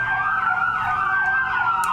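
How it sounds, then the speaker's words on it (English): An ambulance siren wails loud and close, its sweeping tones rising and falling continuously with no voices over it. "The ambulances are coming for you."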